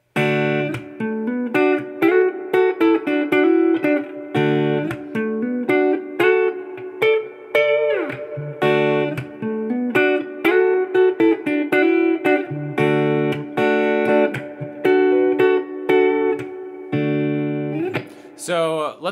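An electric guitar plays a lively melodic line of picked notes and short phrases, moderately loud, with a brief squeal near the end.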